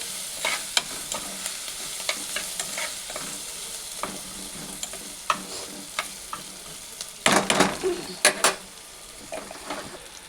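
Onions and green chillies fry with turmeric in a pan for a spinach stir-fry. A soft, steady sizzle runs under sharp, irregular clinks and scrapes from a spatula stirring against the pan, with a louder cluster of knocks near the end.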